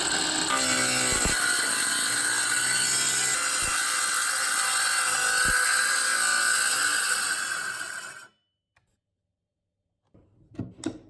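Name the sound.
saw cutting into the skatepark's wooden top layer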